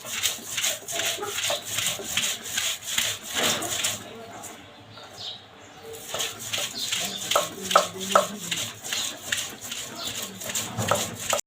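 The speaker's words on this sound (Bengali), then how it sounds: "এটা যে এখন অল্প অল্প করে থানকুনি পাতাগুলো বেটে নিব।" Thankuni leaves are ground on a stone grinding slab with dried chilli, green chilli and garlic, a repeated rough scraping and rubbing in steady back-and-forth strokes, close and moderately loud.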